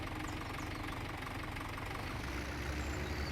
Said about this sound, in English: So we're going to grab the old Massey Ferguson and get down there and do that.